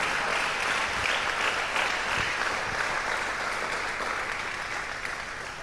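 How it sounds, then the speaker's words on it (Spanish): A church congregation applauds for the King, a steady wash of clapping from many hands lasting several seconds and fading slightly at the end, with no voices over it. "Dale un aplauso al Rey"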